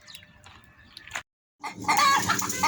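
A rooster and chickens clucking close by, then a brief silence before a louder burst of agitated clucking and squawking from several birds.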